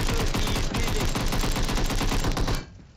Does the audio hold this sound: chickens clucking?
no